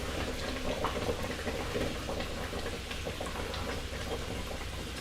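Hamburger curry bubbling in a pot on the stove, a steady close crackle and simmer of thick sauce that runs continuously without pause.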